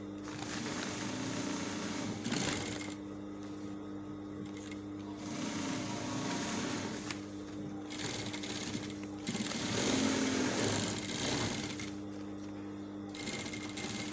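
A sewing machine stitches a patch pocket flap in steady, close whirring runs that pause and restart several times, with its motor hum continuing throughout.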